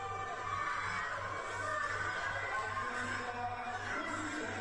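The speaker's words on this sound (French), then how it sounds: "La foule en délire pour le AOU." Wild wrestling crowd cheering at a European pro wrestling event, a dense, steady roar of many voices with a rhythmic low thumping underneath, sustained throughout.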